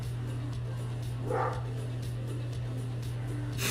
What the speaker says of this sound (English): Can Hans please stop barking?